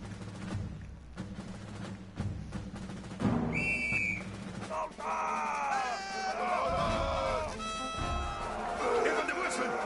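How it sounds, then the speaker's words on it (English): A shrill whistle blast rings out in the World War I video game Valiant Hearts: The Great War, a short piercing tone over a busy backdrop of bleating cries and crowd noise. "Even the whistle!"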